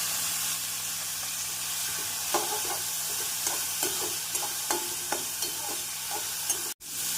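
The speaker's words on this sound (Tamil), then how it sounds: "எண்ணெய் காய்ந்தவுடன் நறுக்கிய வெங்காயத்தை சேர்த்து விடலாம்." Chopped onions sizzle steadily in hot oil for masala dosa filling, with a spoon stirring and scraping the pan at irregular intervals, no voices.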